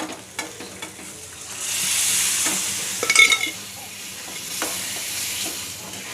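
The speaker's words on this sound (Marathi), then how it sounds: "बघा हे भाजते चांगलं तेल सुटतपर्यंत बघा आता हे मॅश केलेल्या भाज्या" Mashed vegetables for pav bhaji fry in oil, giving a steady sizzle broken by a few scraping, clattering strokes of a spoon stirring the pan, heard up close.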